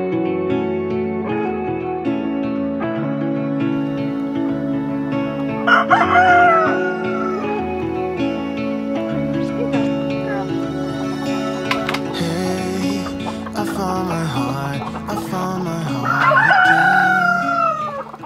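Chickens on a homestead cluck around a rooster that crows twice, with the crows rising above steady background clucking and some music-like tonal sound throughout.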